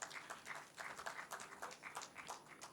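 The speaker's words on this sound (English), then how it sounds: "Please, let's have a huge round of applause." Faint applause from an audience at a medical symposium prize ceremony, a short patter of scattered clapping that rises and falls in small bursts.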